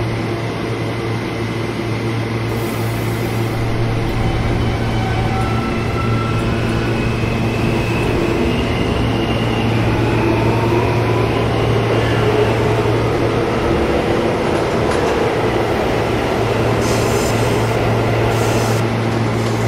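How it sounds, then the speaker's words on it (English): A Queensbound R160A G subway train running on the IND Crosstown Line in a Roblox video game, giving a steady, loud rumbling drone with a constant low hum throughout and faint hissing on top. "This is a Queensbound G train."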